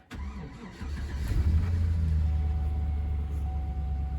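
A 1956 Chevy truck engine cranks briefly and fires, then settles into a loud, steady, close-up idle with no talking.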